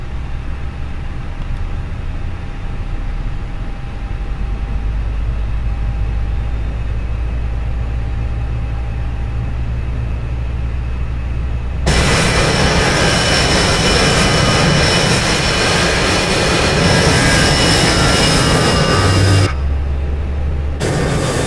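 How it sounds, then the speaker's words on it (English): Transavia airliner jet engines spin up in a flight simulator game, a steady low rumbling hum that gives way to a loud broadband roar midway, then briefly cuts back and returns. "You can start the engines in sequence."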